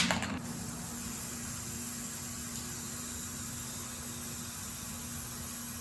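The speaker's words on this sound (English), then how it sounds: "just spray a bunch of this red spray paint into this paper plate" Red spray paint hisses steadily from an aerosol can into a paper plate, with a sharper burst at the start and then a constant close, broadband spray.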